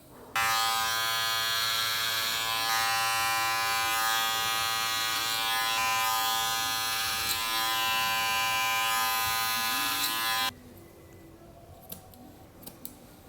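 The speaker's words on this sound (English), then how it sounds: "What I like doing is I like going with my clipper over comb." Electric hair clippers run clipper-over-comb through hair, a loud close steady buzz for about ten seconds that then cuts off, leaving faint clicks and handling noise.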